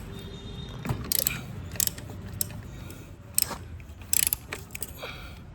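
A ratchet with a 17 mm socket loosens the oil strainer bolt on a Honda Activa 3G scooter, giving several close, loud bursts of quick clicking separated by short pauses.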